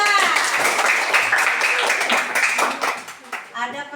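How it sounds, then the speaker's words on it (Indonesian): A primary-school class clapping after a group presentation: a burst of many hands applauding for several seconds, mixed with children's voices and chatter, fading near the end. "Tepuk tangan semua."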